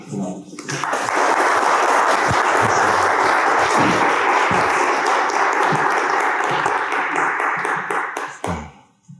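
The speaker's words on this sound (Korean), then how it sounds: "우리 박수로 환영을 모시겠습니다." Loud, sustained audience applause from many hands welcoming a pastor at a church event, a dense wash of clapping lasting several seconds before tapering off at the end.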